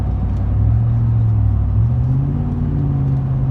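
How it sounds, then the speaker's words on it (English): A 2013 Chevrolet Silverado Z71 LS with the 5.3 engine, 4x4 and a 6-inch lift rumbles loudly up close. Its exhaust note is deep and steady, and the revs climb partway through with no talking. "Engine runs perfect."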